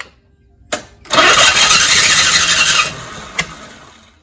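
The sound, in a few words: 1983 Cadillac Cimarron engine cranking and backfiring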